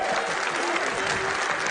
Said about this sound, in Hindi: बजाओ ताली ढंग से